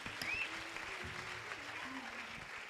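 An audience claps steadily for musicians at a church gospel concert, with dense, continuous applause at moderate volume and a voice briefly over it.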